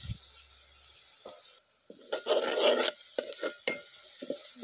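Onions cook in a pan and are stirred with a utensil, giving a soft sizzle broken by scraping strokes and clinks, with one louder burst of stirring in the middle.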